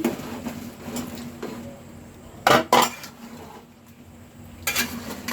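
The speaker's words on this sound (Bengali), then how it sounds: "ভালো করে কাসুন্দর সাথে মিক্সড করে নিব" A utensil scrapes and clinks against a pot as mango pickle with garlic and green chillies is mixed with mustard paste, producing intermittent soft scraping broken by a few louder knocks.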